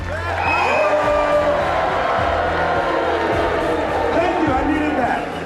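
A studio audience crowd cheering and whooping loudly throughout, a dense wall of shouting voices with bellows rising above the roar.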